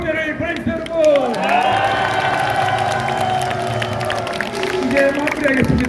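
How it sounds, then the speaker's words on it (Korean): At an outdoor election campaign rally in Anyang, South Korea, a crowd claps and cheers in a loud, sustained wash, with voices shouting over the noise. "우리 이낙연 총리께도 뜨거운 박수와 격려를 보내주세요, 여러분."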